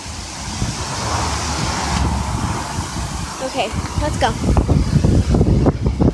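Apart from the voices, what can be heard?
wind blowing outdoors, wind noise on microphone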